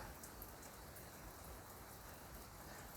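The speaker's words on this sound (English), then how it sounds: "It's raining." Rain falls steadily, a faint, even hiss of drops with no voices over it.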